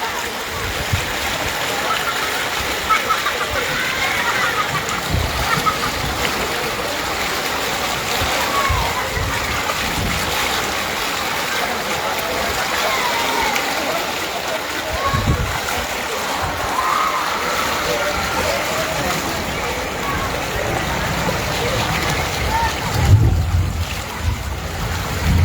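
Strong floodwater rushes steadily during Typhoon Enteng in the Philippines, a loud continuous broadband churn with occasional splashes throughout.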